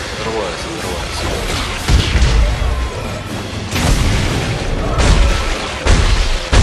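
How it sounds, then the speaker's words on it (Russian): Heavy booming blasts from the video game Dead Space 3 during co-op play on PS3, several loud explosions repeating over a few seconds amid continuous game noise. "Взрывается, взрывается."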